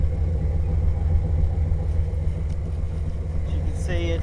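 A 1988 Chevy Silverado engine running through its stock exhaust, a steady low rumble that holds evenly throughout, with a brief voice near the end.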